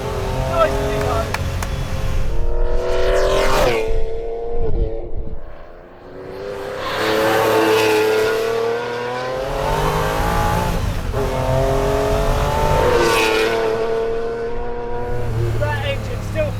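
Screaming V12 in a rebuilt prototype McLaren F1 revving hard in repeated rising surges, loud and close, with a brief lull between pulls.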